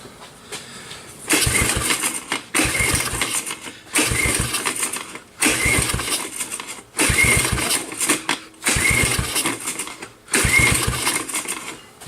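A Kawasaki KLT 110 with a seized throttle cable is cranked repeatedly without firing, loud churning bursts of about a second each, separated by short pauses, with a steady background hum between attempts.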